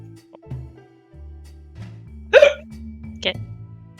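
Two sharp hiccups come about a second apart, the first louder than the second. They are heard close up over low music and a quiet background hum.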